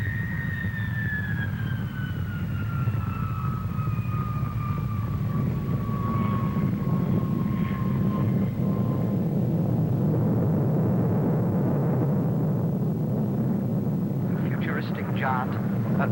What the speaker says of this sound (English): The new Vulcan, the world's biggest Delta.